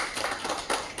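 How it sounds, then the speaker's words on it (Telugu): Audience applause at an outdoor food-donation gathering by the Chirala Walkers Association for NTR's death anniversary: a steady patter of many hands clapping at middle distance, rising in a few brief swells over about a second. "వారందరూ కూడా మీరు చప్పట్ల ద్వారా శుభాకాంక్షలు తెలియజేసుకుంటున్నారు"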